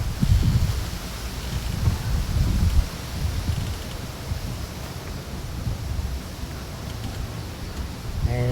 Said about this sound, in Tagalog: malakas ang hangin dito sa amin.